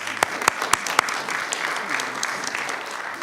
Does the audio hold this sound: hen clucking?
no